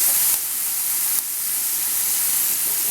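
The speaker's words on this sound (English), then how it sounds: "when we add the brandy to the pan, we actually get all this nice sediment out of the pan too" Brandy poured into a hot pan while making duck liver pâté, giving a loud, steady broadband sizzle and hiss that holds for about three seconds, with no voices.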